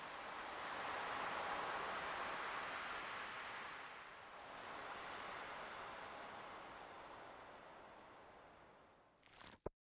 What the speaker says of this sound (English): Just me, the jellies, and the beautiful sound of the waves crashing.